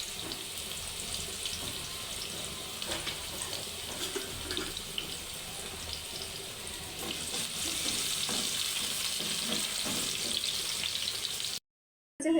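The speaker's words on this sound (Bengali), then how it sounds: "আমি এবার পেঁয়াজটা লাল লাল করে ভেজে নিব" Onion frying in oil until brown, a steady low sizzle with faint stirring and a watery hiss, close and quiet throughout, cutting off briefly near the end.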